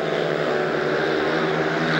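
Speedway motorcycles racing at the 2005 IMSJ final qualifying meeting in Bydgoszcz, a loud continuous engine roar that stays steady and dense throughout, with a commentator's voice in Polish running over it.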